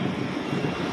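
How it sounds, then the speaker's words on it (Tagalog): A motorcycle engine runs steadily up close, a continuous even mechanical drone with a faint knock. "Yung tunog ng makina mo"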